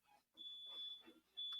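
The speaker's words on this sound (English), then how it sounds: "Or the fire alarm's going off." Fire alarm going off indoors, a thin high electronic tone sounding faintly in two stretches with a short gap between, under quiet background talk.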